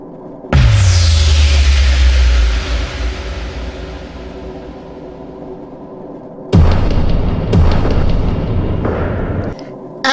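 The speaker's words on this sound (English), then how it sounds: "Missiles ejected from their ship and hit the intruders." Cartoon missiles strike an enemy spaceship with a loud booming explosion that rumbles and decays, followed later by a second blast and a couple more sharp impacts.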